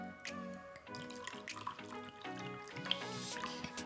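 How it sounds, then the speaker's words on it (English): Sparkling water poured into a glass of iced tea and lemonade gives a steady trickling, fizzing pour close by, with background music running underneath. "Top that off with sparkling water."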